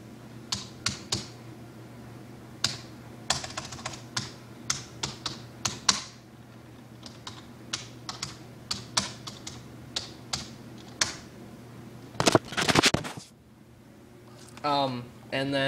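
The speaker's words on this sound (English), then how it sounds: "Here, let me type it in." Keys clatter on a computer keyboard in quick irregular bursts of typing with short pauses, close and clear, followed by a brief louder rustle and faint talk near the end.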